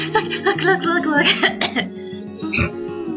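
Someone coughs in a quick run of bursts mixed with voiced, laugh-like sounds, close by and fairly loud.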